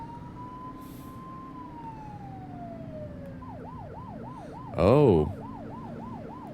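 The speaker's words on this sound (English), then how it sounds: "That's the siren I want." A police car siren from a video game wails, first as a long falling tone and then as a rapid repeating yelp, loud and close, with a brief burst of another blaring tone and a short voiced exclamation.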